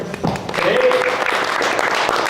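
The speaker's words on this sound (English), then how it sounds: "Give yourself a round of applause for being here." Applause from a meeting audience, a short burst of clapping from the crowd heard under and after a brief spoken cue.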